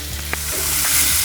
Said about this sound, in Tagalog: Igisa natin ng bahagya bago lagyan ng 1 cup of water.